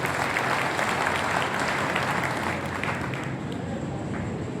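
An audience at a Mahatma Basaveshwar Jayanti festival event in Loha claps continuously, a loud, dense wash of applause that eases slightly toward the end.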